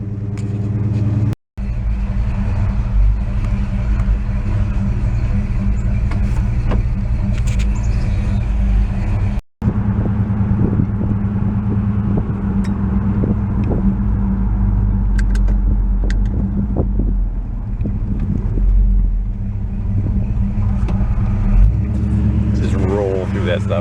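A 1967 Plymouth car out on a drive, its engine rumbling loud and steady from inside the cabin with road noise throughout, two brief dropouts near the start, and voices talking over it.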